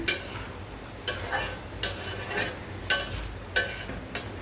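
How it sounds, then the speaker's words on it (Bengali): Boiled eggs are stirred gently through a korma masala in a pan, soft scraping strokes recurring about every half-second over a low, steady sizzle. "আমি ডিম দিয়ে বেশি নাড়াচাড়াও করছি না, খুবই আলতোভাবে নেড়ে নিতে হবে।"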